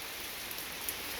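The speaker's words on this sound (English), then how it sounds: "we'll see how long it rains." Steady rain falls around a garden with raised beds and gutters, a dense even hiss of drops with a few slightly louder splashes, close by and with no voices.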